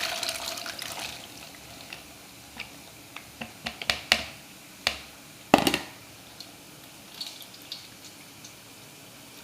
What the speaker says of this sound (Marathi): बटाट्याचं पाणी आपण निथळून घेऊ